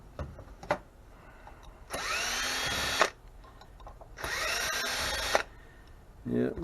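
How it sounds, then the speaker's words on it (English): Weak, dying electric drill running in two bursts of about a second each, a thin whining buzz that starts and stops, close by, with speech and handling noises between the runs. "Yeah, my drill's dying."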